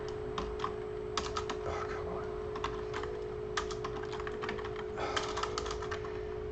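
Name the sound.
typing on a QWERTY computer keyboard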